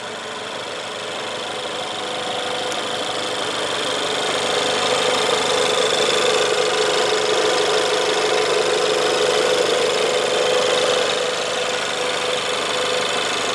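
A 2017 Lincoln MKZ's 2.0-liter turbo EcoBoost engine idles steadily under the open hood, a close, even hum with a faint ticking texture that swells slightly midway and holds.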